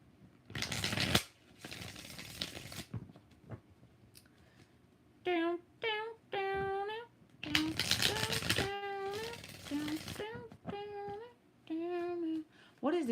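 Tarot cards shuffled by hand during a live reading, with sharp riffling bursts at the start and middle, interleaved with a voice talking and singing between them.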